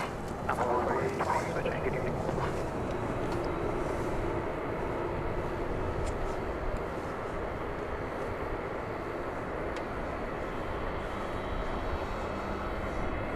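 A passenger airplane arriving at DFW Airport on an evening flight from Lubbock gives off a steady, fairly distant engine roar that holds at an even level, with a faint wind-like hiss over it.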